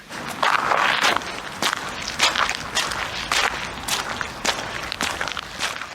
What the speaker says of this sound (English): I heard footsteps, heavy, deliberate, squelching in the wet earth